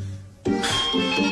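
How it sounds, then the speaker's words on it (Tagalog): A doorbell chimes at night inside a home, a sudden bright ding with a couple of ringing follow-up tones that sustain and fade over a quiet background. "Gabi na, may nagdo-doorbell pa."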